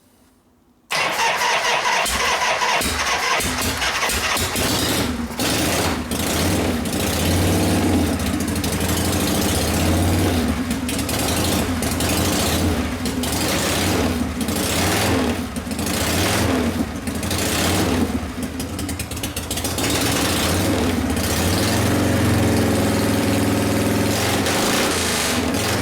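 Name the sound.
1973 Harley shovelhead motorcycle engine starting and idling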